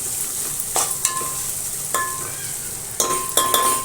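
Ground masala paste roasting in a pan for a brinjal, potato and dried prawn bhaji, with a constant sizzle and several sharp metallic stirring scrapes and taps close by.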